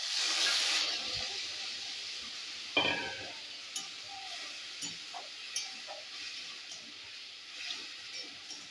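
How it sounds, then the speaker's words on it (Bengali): Ginger paste frying in a pan gives off a steady hiss and sizzle, with a loud burst at the start and a few sharp spatters and stirring clicks as it settles into a softer crackle. "এবার আমি এই যে আদা আদা বাটাটা দিয়ে দেবো"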